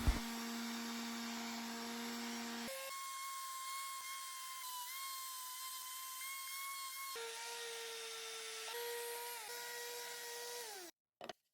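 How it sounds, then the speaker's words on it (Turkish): A steady whirring power tool sands dried glue off wood, running continuously, its pitch shifting in steps as it works, then cutting off briefly near the end. "Bir gün sonra tutkalları zımparalıyorum."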